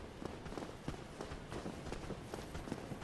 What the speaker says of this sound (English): You can hear nice footsteps of people hanging around.